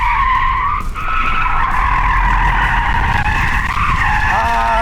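Tires of an electric car such as a Genesis GV60, Kia EV6 or Hyundai Ioniq 5 skid on a test track as the rear wheels lose grip with ESP off, a loud, sustained squeal with a shifting tone.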